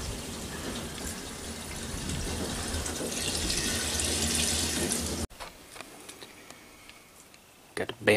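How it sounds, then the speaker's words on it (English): Fluid siphons from a 1973 GMC truck that sat for 13 years, a steady close gushing trickle that stops abruptly partway through, followed by quieter ambient sound and a brief knock near the end. "That works so much better taking the pump off once you get the siphon started."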